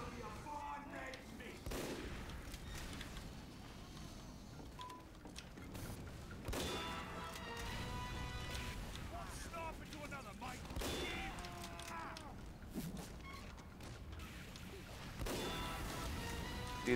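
In Team Fortress 2, sustained rapid gunfire hammers a sapped sentry gun, with dense bursts, thuds and crashes piled over the game's noise and voice chat.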